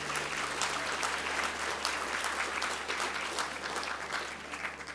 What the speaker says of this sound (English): let's just give a round of applause for Fred